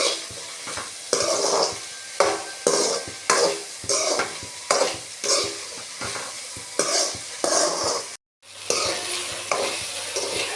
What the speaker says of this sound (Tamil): அந்த பிசு பிசுன்னு இருக்கிறதுனால கிண்டிக்கிட்டே இருக்காங்க.